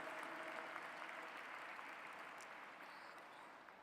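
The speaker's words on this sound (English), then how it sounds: "A bigger round of applause" Audience applause at an interfaith summit in a large domed hall, a faint, distant, continuous patter of many hands under steady room noise.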